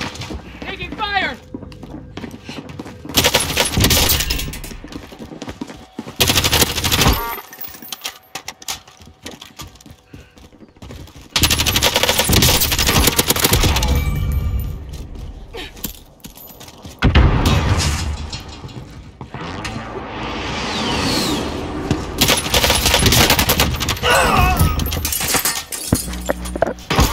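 Loud, harsh bursts of gunfire and impacts sound in a shooter video game on the Boneyard map, coming in repeated volleys with short gaps, while players talk over the action.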